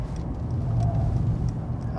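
A Mercedes CLS 400d slowing under braking and turning, a steady low engine and road drone at moderate level, with faint tire noise and no talking.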